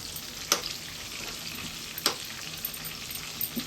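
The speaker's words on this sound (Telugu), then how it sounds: "ఇది మనం సిమ్లో వేయించుకుంటే లోపల రొయ్య అనేది బాగా కుక్ అవుతుందండి." Prawn pakoda fries in oil over a low flame, giving a soft, steady, close sizzle with a few faint clicks and pops from the pan.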